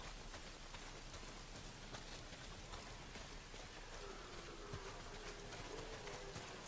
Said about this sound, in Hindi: बहुत बारिश हो रहा है इतना बारिश अच्छा नहीं लगता